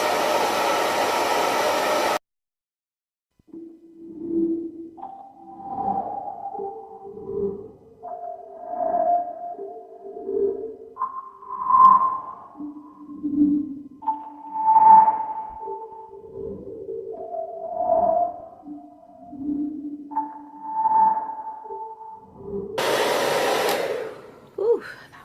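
A hair dryer with a diffuser drying curly hair runs as a steady loud whoosh at the start and again at the end. Between the two bursts, soft tonal beeping notes play in a wandering pattern.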